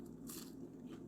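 Someone bites into a breakfast taco filled with crunchy air-fried tater tots, producing a short, close crunch followed by softer crackling, quiet overall.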